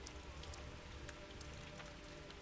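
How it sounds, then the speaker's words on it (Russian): Steady rain falls in the video game Pathologic 2, a dense, even patter of drops hitting surfaces with a few sharper splashes, quiet and continuous with no voices. "Странно, что дождь идет"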